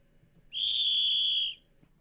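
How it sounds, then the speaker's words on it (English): A single sharp whistle blast, held steady for about a second, loud and clean over a quiet room background. "Throw a whistle on that one."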